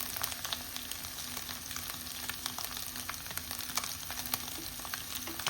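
Onion, carrot and capsicum with salt sizzle steadily in a hot pan while being stirred, a continuous close frying hiss with soft scraping, no voices.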